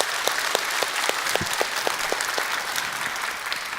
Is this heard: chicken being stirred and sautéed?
no